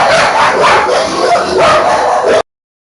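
A dog barks and yips in GTA V Online, loud and close, in a rapid, continuous run of barks lasting a couple of seconds before cutting off into silence.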